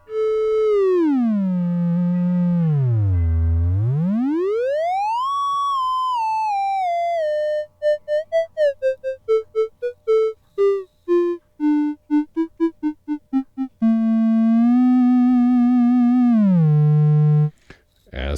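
A Therevox ET-5 oscillator plays a triangle waveform, a clean, slightly bright tone that sweeps down and up in pitch, then steps through a run of short staccato notes before sustaining a steady pitch and cutting off.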